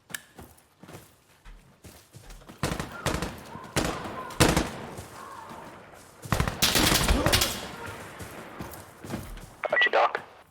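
Rapid gunfire in the video game Insurgency Sandstorm: repeated loud sharp bursts and single shots, some close and some in sustained volleys, with voices talking underneath.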